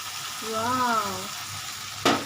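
Mustard and poppy seed paste, made from black and white mustard seeds with poppy seeds, hisses and sizzles steadily in a hot frying pan, with a brief voice over the frying and a sharp louder burst near the end.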